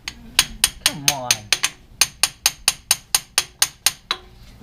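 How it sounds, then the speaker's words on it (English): A rapid series of sharp metallic hammer blows, about a dozen evenly spaced strikes ringing close by on a stuck part of a 1978 Ford Bronco during a 6-inch lift kit install, with a brief voice near the start. "I'm gonna have to get the hammer out."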